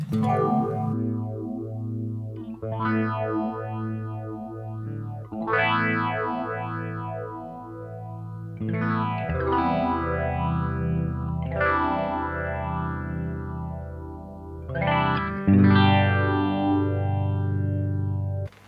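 Electric guitar playing chords through an Electro-Harmonix Bad Stone phaser pedal, the tone swirling up and down in slow repeating waves, loud and continuous.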